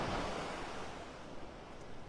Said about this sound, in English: That water is rushing out.